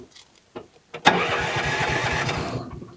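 A Honda side-by-side engine cranks briefly and catches, then settles into a steady, loud idle that runs on close by for about two seconds.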